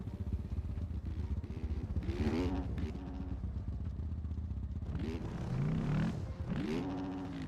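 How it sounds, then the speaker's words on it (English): A two-stroke motorcycle engine drones continuously, fairly faint and steady, with the pitch swelling briefly twice as it revs up. A person speaks over it at points. "Who the hell is on a 2-stroke?"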